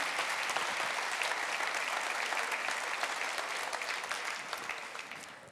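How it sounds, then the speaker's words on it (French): Dinner guests at a mayor's supper in Victoriaville give a dense, even round of applause that fills the room, holding steady before tapering slightly at the end. "on peut donner une bonne main d'applaudissement"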